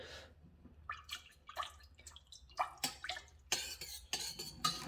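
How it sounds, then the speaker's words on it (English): A spoon stirs vanilla extract into syrup for fermented cream soda, making a run of light, irregular clinks and liquid swishes close by, with no talking. "Do you want to stir that in?"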